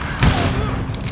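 A single loud gunshot rings out in the Western shooter Call of Juarez: Gunslinger, followed by a brief fading echo and a low background hum.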